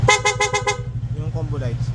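A PIAA horn on a Yamaha Sniper 150 V2 motorcycle toots in a quick run of five rapid beeps, fairly loud and close, followed by a low steady engine hum with faint talk.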